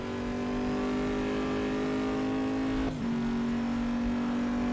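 A Porsche race car engine drones at a steady high pitch in a racing video game, dipping briefly as if shifting before settling back into a constant loud whine.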